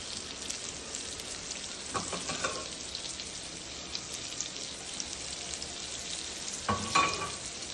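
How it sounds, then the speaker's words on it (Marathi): Surmai (kingfish) pieces frying in a pan, following pomfret, give a steady low sizzle and crackle throughout, with a couple of brief louder spatters of oil. "आता करूया आपण सुरमई फ्राय"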